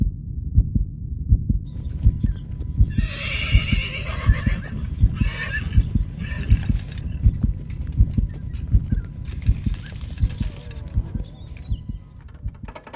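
Racehorses gallop in a race with a steady, rapid drumming of hoofbeats throughout, broken by a few higher whinnying bursts, and no talk.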